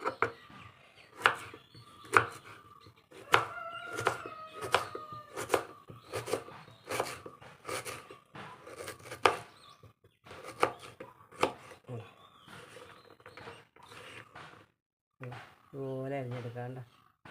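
Raw green mango being cut up for a pickle, with a quick, regular run of crisp knife chops on a board, close and fairly loud, pausing near the end, where a voice briefly speaks.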